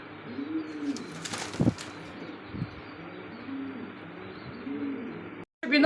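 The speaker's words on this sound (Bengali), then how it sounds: "দেখতে পাচ্ছি এখানে আরো এক কবুতর" Pigeons coo softly in low repeated murmurs, with a brief flutter of wings early on, against a steady background hiss.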